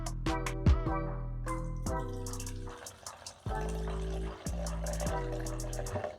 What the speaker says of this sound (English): pour 100 milliliters into the little container so you can measure it, and then put it obviously in your water tank